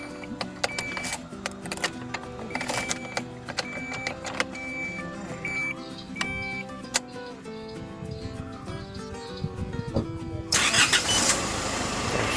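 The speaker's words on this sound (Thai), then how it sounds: "จากนั้นนะครับให้เราทำการสตาร์ทเครื่องนะครับ ก็เสียบกุญแจ นะครับสตาร์ทเครื่องได้เลย" Ignition of a 2012 Isuzu car, model P16S MAX, starting up: a steady engine run with clicking and mechanical noise that swells into a louder, broadband roar near the end, with no voices.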